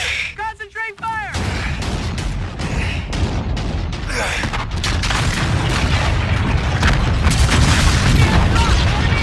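Gunfire and heavy explosions in a Call of Duty video game, loud booming blasts and rattling shots layered densely over a steady rumble, with shouted voices mixed in.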